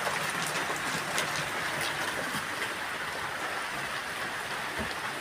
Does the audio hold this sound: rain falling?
yes